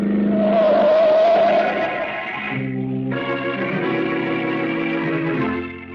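A speeding car in a 1940s radio drama roars in with a loud, sustained engine whine that dips briefly, then surges again and fades out near the end, with no talk over it.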